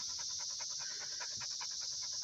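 A dog pants rapidly and steadily at close range, rhythmic breaths repeating continuously, with no talking, on an outing down to a river.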